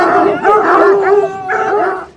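Pack of French Tricolour hunting hounds baying and howling together in a kennel near the Orléans forest, several overlapping voices yelping and whining close by in a continuous chorus.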